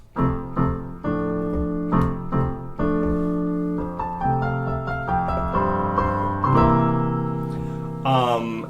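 Piano plays steady sustained chords, one after another in a slow even rhythm, clear and close with no voices.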